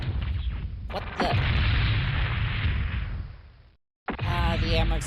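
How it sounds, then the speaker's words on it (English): A mech's ammunition cooking off in the MechWarrior 2: 31st Century Combat video game, a loud sustained roaring blast that swells and holds, cuts to brief silence, then resumes with another burst of rumbling game noise. "the ammo explosion got me."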